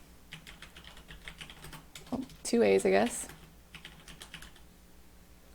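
Keys clatter on a computer keyboard while a search phrase is entered into a scholarly article database, with a burst of faster taps in the middle and a voice speaking briefly over the typing.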